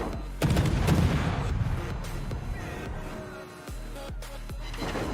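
Ship guns firing in World of Warships on the Hector cruiser: a heavy boom followed by several sharp blasts, with a rumbling game background and a voice talking over it.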